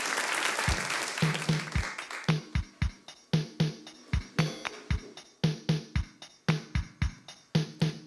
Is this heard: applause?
yes